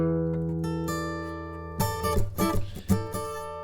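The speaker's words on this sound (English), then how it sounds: "So I'm going to take that guitar sound that we had" A guitar recording heard only from its left channel: sustained strummed chords ring out alone, then a denser burst of picked notes comes in near the end at moderate loudness.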